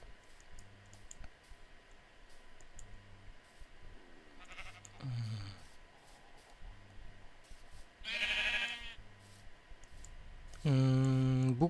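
Sheep bleat in a video game, two bleats heard late amid scattered clicking and keyboard-like tapping over a quiet ambient game background.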